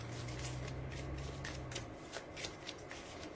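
Tarot or oracle cards are shuffled up close for a reading, a quick crisp riffle of cards over a faint low hum, with soft repeated flicks and slaps.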